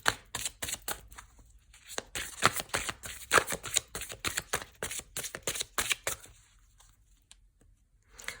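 Tarot cards being shuffled, drawn and laid out, a run of close, crisp flicks and slaps in uneven bursts, fading quieter toward the end.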